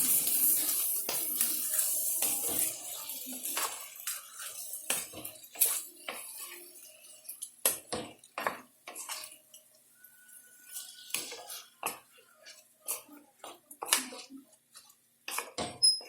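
A utensil stirs ivy gourd sautéing in a pan for tondli bhat, giving scattered metallic clinks and scrapes in an irregular rhythm, close and moderately loud, with no talking.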